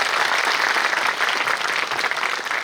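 An audience at a grand religious programme claps together in sustained, dense applause, loud and even throughout with no break.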